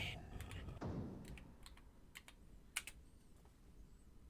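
Typing on an Amiga computer keyboard: quiet, sparse key clicks and taps scattered irregularly, close and faint, with a soft swish partway through.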